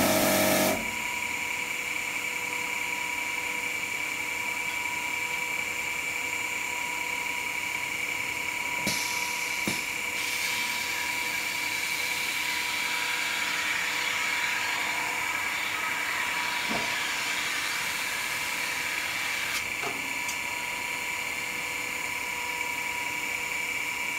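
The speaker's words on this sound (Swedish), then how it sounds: "Slipa lite grann." Wood sanded with a power sander, giving a continuous, steady mechanical whine with a constant hum that runs unbroken and fairly loud, with a few faint knocks along the way.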